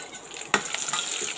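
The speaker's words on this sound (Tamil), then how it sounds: "இதையெல்லாம் நல்லா ஒரு நிமிஷம் நல்லா வதக்கி எடுத்துக்கலாங்க" Ginger and green chillies sauté in a hot pan, giving a soft steady sizzle broken by a few sharp scraping stirs of a spoon.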